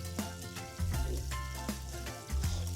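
Beef and onions fry for pilau while being stirred, a soft sizzle under a loud low hum and rhythmic bumps from the stirring, heard close with no talking.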